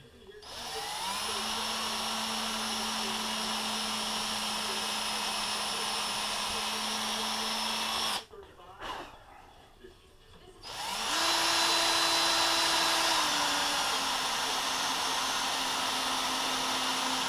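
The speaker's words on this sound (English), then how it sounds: "Get our drill again." Power drill boring into a bamboo arrow shaft to set a long nail for a field point, a steady high motor whine running for several seconds, stopping briefly, then revving again at a slightly higher pitch.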